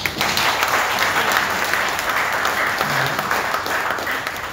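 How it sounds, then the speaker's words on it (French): Steady, dense audience applause for past presidents at a JCI Guinée gathering, even and fairly loud throughout without talk over it. "je vous prie de les applaudir s'il vous plaît"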